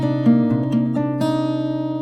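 Guitar plays a short lick, a few ringing notes picked in quick succession with sustained tones, near and moderately loud.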